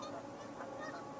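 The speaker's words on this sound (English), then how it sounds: "Those are ducks right outside that window. That's on a lake." Ducks on a lake at a wetland preserve, heard just outside a window, honk and quack faintly through the glass in soft repeated calls, a low continuous backdrop with no talking over it.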